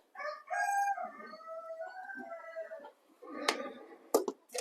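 A rooster crows in a long drawn-out call on a farm, followed by scattered chicken clucks and a few sharp knocks nearby in a tack room.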